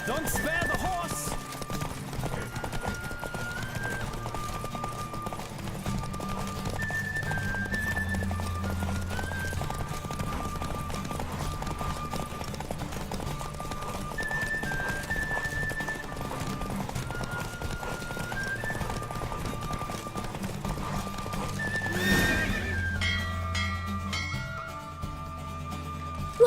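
Steady clip-clop of a horse's hooves at a fast pace, mixed with looping game music and occasional voices, continuous throughout, in the video game The Witcher 3.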